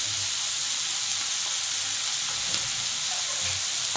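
Ground poppy seed paste sizzles in hot spiced oil in a pan, a constant bright crackling hiss with occasional soft stirring thumps, close and steady throughout.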